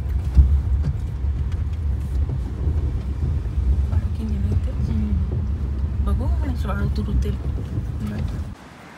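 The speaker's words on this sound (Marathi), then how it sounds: "गाडी फसवली आहे रेतीमध्ये, थोडीच रेती आहे, निघेल बेबी." A car stuck in the sand on a South Goa beach rumbles low and heavily, with wind buffeting the microphone. People talk over the sound, and the rumble drops away abruptly near the end.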